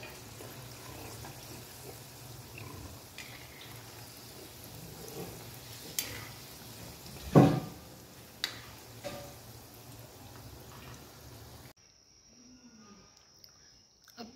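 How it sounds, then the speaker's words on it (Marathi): Bhakarwadi snacks frying in oil over a low flame, a faint, soft sizzle with a few clinks and splashes, which falls quiet near the end. "भाकरवड्या तळण्यासाठी टाकून घेऊया"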